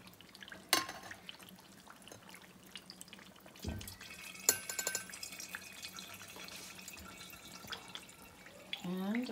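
Melted pig lard from pastured pigs trickles and drips through a strainer in soft liquid splashes, with faint clinks of utensils and a person talking quietly nearby.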